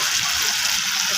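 Water poured into spice masala frying in a pan with reddened onions, a steady broadband rush and gush that holds evenly from start to finish without pause, close and fairly loud, with no talking.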